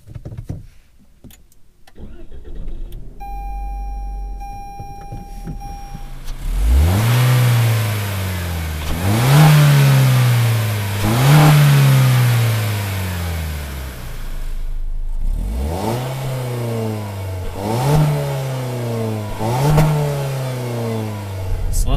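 A 2019 Toyota Corolla Hatchback engine pulls hard under acceleration on the road, its note climbing through several gear shifts in a steady rise-and-drop rhythm, loud and close with no talk.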